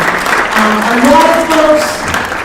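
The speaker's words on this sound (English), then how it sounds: "Let's applaud that." Applause from an audience at an economic development symposium, a steady wash of many hands clapping through the whole moment, with a voice sounding over it.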